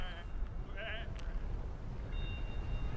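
Sheep bleat in the video game Whateverland, with a few short, wavering calls close by over a low background rumble and some voices.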